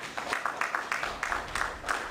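Audience applause at a candidates' meeting, a short burst of fairly quick clapping from a small crowd, moderately loud and steady throughout.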